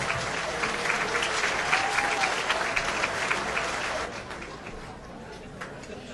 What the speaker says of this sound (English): Ladies and gentlemen, a round of applause for the 2009 line officers.